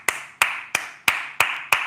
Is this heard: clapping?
yes